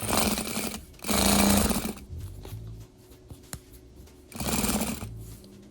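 Sewing machine stitching elastic into a bonnet scarf, loud rapid mechanical whirring in two bursts with a quiet pause between, close up and without talking.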